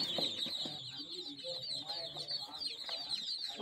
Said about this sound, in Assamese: এয়া হ'ল হাঁহৰ পোৱালি।